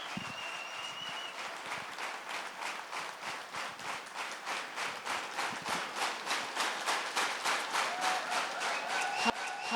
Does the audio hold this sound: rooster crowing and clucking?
no